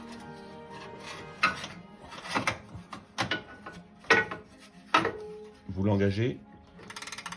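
A 17 mm wrench tightens a lower wishbone bolt on a Lotus Elise S suspension, making a series of sharp metallic clicks and ratcheting bursts. Someone talks between and over them.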